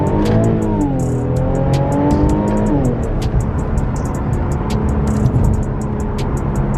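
An SRT-badged Q50 sedan accelerating hard in a full pull, its engine note rising steadily then shifting and dropping before climbing again, loud and close from inside the car with no talk.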